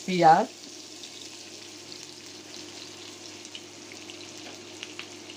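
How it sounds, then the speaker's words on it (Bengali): Onions frying in a pan for a fish do-piaza curry give a steady, faint sizzle after a brief louder burst at the start, continuing softly and evenly to the end. "পেঁয়াজ, গোল্ডেন ব্রাউন করে ভেজে নিলাম।"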